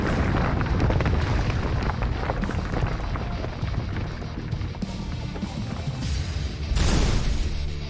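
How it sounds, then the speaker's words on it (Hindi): A tunnel-blasting explosion high in the snowy Pir Panjal range of the central Himalaya, heard as a sustained, rumbling roar with broad low-end weight, rising in a renewed surge near the end. "पहला धमाका।"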